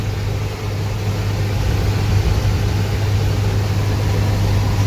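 Isuzu 4BD1T diesel in an empty box truck labors steadily uphill, a continuous low engine drone with broadband road and wind roar, loud and unbroken throughout.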